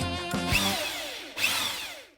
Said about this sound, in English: Next, Mark drills holes in the lamp for the legs to fit through